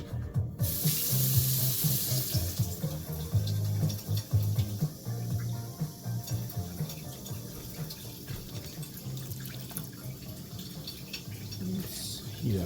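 Tap water runs into a pot for garlic tteokbokki, a steady splashing stream from a kitchen faucet that lasts throughout, with a brief clatter at the start.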